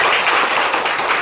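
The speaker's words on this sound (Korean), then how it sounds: "어른들 박수를 그냥 주고 있어요." A church congregation applauds during a Sunday service, with dense, loud, steady clapping from many hands filling the room.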